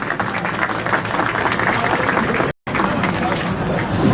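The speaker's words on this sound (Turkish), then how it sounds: "Alkışlarınızla ilk konuşmayı yapmak üzere buraya sahneye davet ediyoruz efendim" Dense, loud applause from a large crowd at a store opening ceremony in İnegöl, Turkey, steady throughout with a brief dropout partway through.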